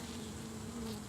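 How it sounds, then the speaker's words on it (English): A honey bee at a hive gives off a steady, close buzz, continuous and fairly loud throughout the short moment with no voices. "here's a bee that's threatening down here"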